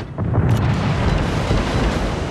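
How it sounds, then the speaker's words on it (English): An enemy destroyer explodes as it sinks in a naval battle game, a loud, deep, rumbling blast that sustains heavily throughout with no voices over it. "We've sunk an enemy destroyer."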